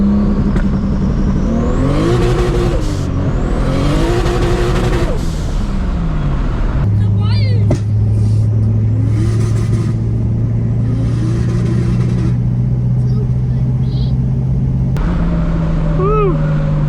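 A 1000-horsepower Toyota Supra on street tires slides sideways in third gear, its engine loud and close, with revs climbing and dropping in repeated surges, then holding a steady drone, as people talk over it.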